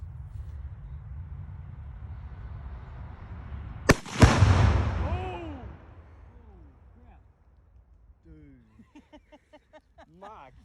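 Two pounds of Sonic Boom explosive detonate outdoors at a beaver hut with one sharp, loud blast, followed by a rumbling roar and falling debris that fade out, then voices talk nearby.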